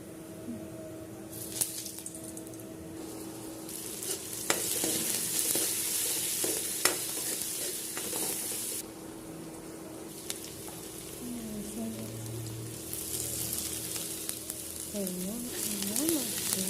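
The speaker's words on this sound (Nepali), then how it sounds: "कराईमा तेल हाल्ने, त्यसपछि मेथी हाल्ने अनि अब जिरा हाल्ने।" Fenugreek, cumin and ajwain fry in oil in a wok, a soft, steady sizzle with occasional stirring scrapes and light taps, fairly quiet throughout.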